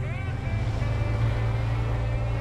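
Truck engine in SnowRunner idles with a steady, deep, continuous rumble, heard close and even throughout.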